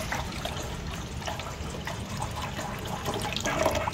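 Water poured into a cooking pot in a home kitchen, a continuous splashing trickle with light bubbling, close and steady, with a brief louder surge near the end.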